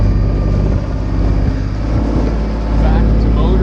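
A sailboat's auxiliary motor runs while motoring in dead calm with no wind on the way to Lasqueti Island, a loud, steady engine drone with a constant low rumble throughout.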